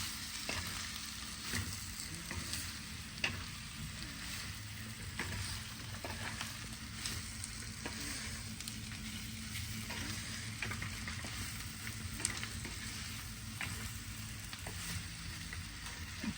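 Boiled potatoes are stirred and fried in a pan, a soft steady sizzle running under repeated scraping and tapping from a spoon, fairly quiet and with no speech.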